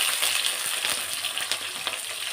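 Thinly sliced green chillies and large-cut onion pieces fry in hot oil with a steady, dense sizzle and crackle. Occasional soft stirring knocks sound close by, and no one speaks.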